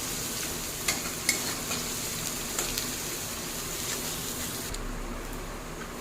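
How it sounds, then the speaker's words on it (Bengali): Onion and ginger-garlic paste sizzle steadily in a pan for a prawn curry, a dense, even frying hiss with a few sharp stirring clicks and a slight drop in the hiss near the end. "আদা রসুনের পেস্টটাও পেঁয়াজের সঙ্গে ভাজতে থাকতে হবে।"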